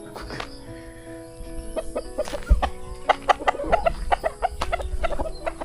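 Gamefowl roosters of a bred line cluck repeatedly and let out crowing calls. The bursts come in an uneven rhythm at close range over a busy farmyard background.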